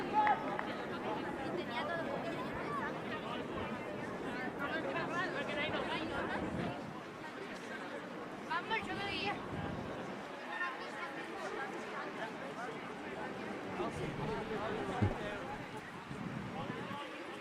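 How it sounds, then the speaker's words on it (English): Crowd murmur at an amateur rugby match between Trinity and Clontarf at College Park, a steady spread-out hubbub of spectators under ongoing commentary. "Lovely crowd out here"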